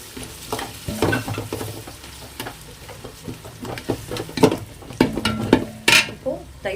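Ground masala with mint and coriander paste frying for biryani, loud close sizzling with repeated stirring and spatula scrapes against the pot, no talk.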